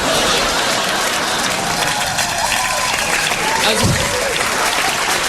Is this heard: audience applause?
yes